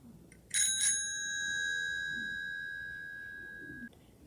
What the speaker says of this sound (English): A bicycle bell ringing.